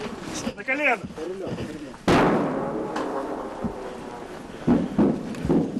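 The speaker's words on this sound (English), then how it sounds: "Pinned down, their route back is cut off by artillery fire." Artillery fire on open ground booms out as sharp heavy blasts with rumbling decay, one strong hit midway and more thuds later, mixed with wind buffeting and a voice speaking over it.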